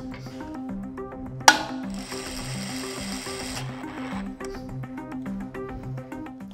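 A rusty bolt is tightened to 500 newton meters with a ratcheting tool, giving rapid regular clicking throughout, with one sharp snap and a short burst of hiss partway through, no talking.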